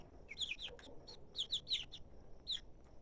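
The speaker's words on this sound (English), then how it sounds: "And these are our replacement hens." Replacement hens of several breeds cluck in a coop, a series of soft close clucks and short calls in irregular bursts with no talking.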